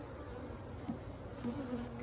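Honeybees drone at an open beehive during a swarm-preparation inspection, a close, continuous buzzing hum with a few individual bees flaring louder as they pass.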